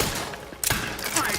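Rapid gunfire in the video game The Outer Worlds 2 fills the moment: dense, continuous bursts of shots with sharp cracks and thumps layered together, loud and close throughout.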